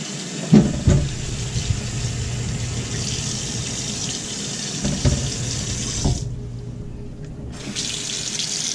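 Warm water runs steadily from a kitchen tap to rinse collard greens, a continuous splashing stream with a couple of sharp knocks and a brief pause near the end.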